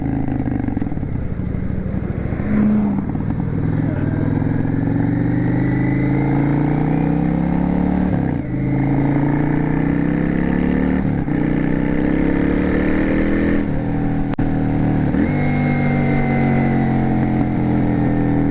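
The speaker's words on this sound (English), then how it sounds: "It's got a little bit of a backfire to it." A Yamaha V Star 650 Classic motorcycle revs steadily and loudly up close, its engine note rising and falling through several throttle blips with brief dips between them, the backfire pops hard to pick out beneath the continuous roar.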